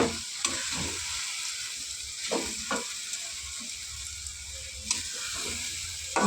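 Maggi noodles tossed with spices in a pan, a steady close sizzle and frying hiss with soft scraping stir strokes every second or so, no voices.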